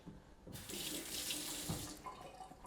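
Water runs steadily from a kitchen tap as an orange is washed under it, a close, continuous splashing stream that stays alone for a few seconds.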